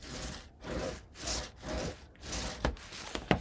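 Paper on a handmade mini album cover's hinge is burnished with a tool, giving soft repeated rubbing strokes in a steady back-and-forth rhythm, close and quiet, ending in a few small taps.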